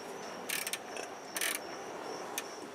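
A 16mm combination wrench cracking loose the oil drain plug on a 4-cylinder Jeep TJ gives a few short bursts of metallic clicking and creaking over a faint steady hum, close by, with no talking.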